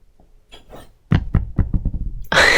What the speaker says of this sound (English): They want to see me shuffle the cards.